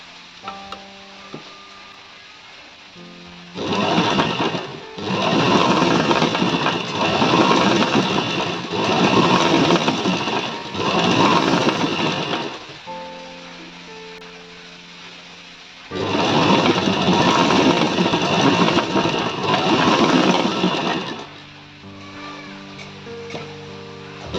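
A sewing machine stitching a blouse sleeve runs in two loud, close bursts of rapid, steady whirring, separated by quieter pauses with light handling sounds.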